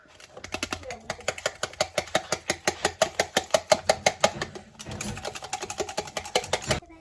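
A whisk runs inside a vessel during lambing, making a rapid, steady mechanical clatter of close, evenly spaced pulses with a brief pause before it resumes.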